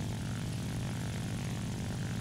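A German rank 1 propeller plane in the War Thunder video game drones with a steady, loud, continuous engine roar, unbroken and without any talk over it.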